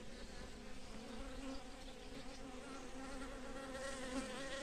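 Carpathian honey bees hum inside a hive, a steady, even, buzzing drone that stays unchanged throughout at low level.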